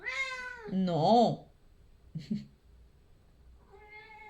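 A kitten meows a couple of times, mixed in with someone talking close by. After that comes a quiet stretch and then a short rising cry.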